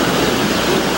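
Big sea waves surging onto the shore during a typhoon in Misamis Occidental, a loud, steady roar of crashing surf filling the whole moment with no voices.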